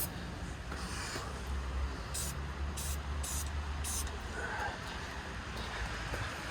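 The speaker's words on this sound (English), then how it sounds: "spray paint the muffler where I had the ground" Short hissing bursts of a spray paint can coating a hot muffler on a vehicle, four brief sprays over a steady background, with someone talking.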